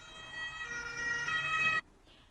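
An ambulance siren wails loud and high-pitched as it approaches, holding a steady tone for nearly two seconds before cutting off abruptly, leaving faint background hiss.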